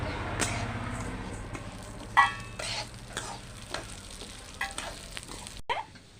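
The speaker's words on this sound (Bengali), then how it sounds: "দিয়ে দেবো একটু তেল, ডালগুলো এবার দিয়ে দেবো" Moong dal lentils fry in a little oil for khichuri, a soft continuous sizzle with repeated scraping stirs of a spatula in the pan, close by and without talk.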